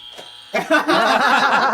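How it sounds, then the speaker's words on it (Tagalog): A short click is followed by a harsh electric buzzer that sounds loud and steady for over a second. "May buzzer tayo."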